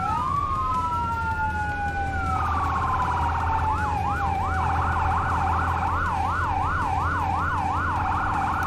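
Emergency vehicle sirens in Firefighting Simulator: The Squad, a fire engine's siren sweeping up and down in steady wails, loud and close over a constant low engine rumble, shifting into faster yelp cycles partway through.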